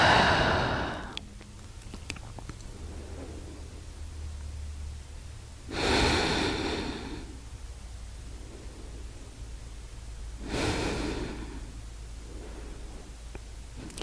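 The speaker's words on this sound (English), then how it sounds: "Continue breathing in and out through the nose." Slow nasal breathing during a yoga twist for back pain, as soft broad hisses with two louder exhales spaced about five seconds apart, close and steady, with no talking.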